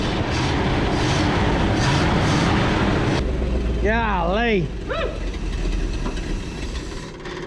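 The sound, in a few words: 1959 Chevrolet truck Buick Nailhead engine running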